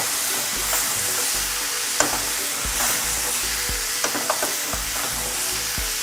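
Eggs going into a prawn and okra curry in a village kitchen, with steady frying sizzle throughout and occasional stirring clinks from a utensil against the pan.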